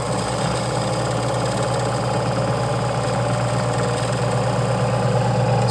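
A magnetic heater runs under test with a loud, steady mechanical hum and a constant buzzing vibration that holds throughout, with no voices.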